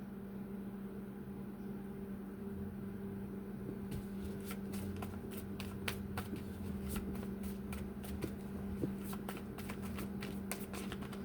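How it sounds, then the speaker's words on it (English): Tarot cards are shuffled by hand, a close run of quick, irregular riffling clicks that starts partway through over a steady background hum. "even as I'm flipping the cards and shuffling the cards"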